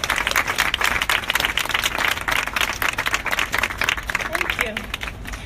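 An audience at a rooftop poetry reading claps steadily, dense applause close and loud throughout, with a little crowd murmur underneath.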